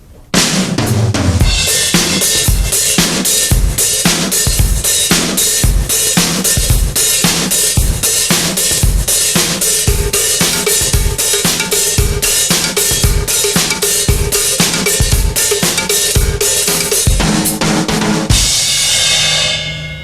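Metal-style drum kit groove with a steady ostinato hi-hat, snare backbeats and cowbell accents played with four-way independence, a dense, loud, evenly pulsing pattern running throughout with no talking.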